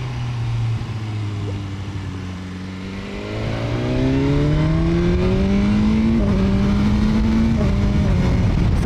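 A BMW S 1000 R motorcycle accelerates hard, its engine note climbing steadily through quick, clean quickshifter gear changes, loud and close with no talking.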